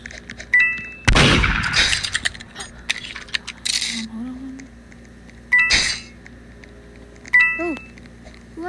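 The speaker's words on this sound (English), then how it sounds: "Who has a gun?" Gunfire in the Roblox game Murder Mystery 2 cracks out in a few sharp, loud bursts between quieter game chimes, pickup dings and effects.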